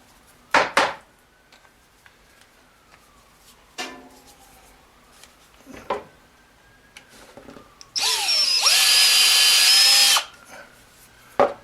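A power drill drives 4-inch screws into wood, giving a steady whirring run of about two seconds near the end, with scattered clunks and handling knocks before and after it.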